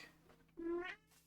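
A pet cat gives one short, clear meow close by during a Minecraft Skyblock Survival session, brief and fairly quiet against a faint steady hum.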